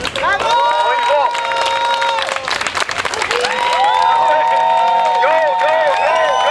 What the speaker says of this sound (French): on remercie, une bonne main d'applaudissements